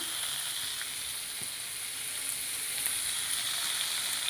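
Tomatoes frying in a pan for a cauliflower bhaji, a steady close sizzle with hissing texture throughout and no talking.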